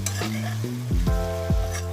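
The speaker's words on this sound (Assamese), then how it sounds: "মাংসখিনি দি পেলাই মই 1 মিনিট মান ভাজিম" Boiled chicken pieces frying with vegetables in a pan for chicken fried rice, a loud continuous sizzle with several rhythmic scraping strokes of a spatula stirring, close and without talk.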